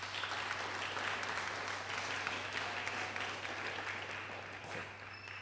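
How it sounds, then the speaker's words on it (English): An audience gives a round of applause at a 2015 Gateway to College graduation ceremony, a steady, fairly faint mass of clapping in a large hall over a low constant hum, tapering slightly at the end. "So I think we should give her a round of applause."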